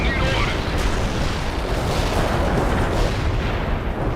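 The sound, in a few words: artillery barrage in the video game World in Conflict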